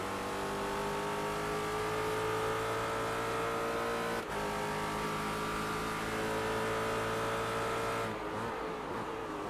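A Ford GT race car engine in the iRacing video game holds a loud, steady high-revving whine that shifts slightly near the end, with no voices over it.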